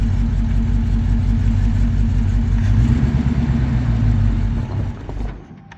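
A restored 1954 Chevy 3100 pickup truck engine runs as the truck drives for the first time, a loud, close, steady low rumble that fades away at the end.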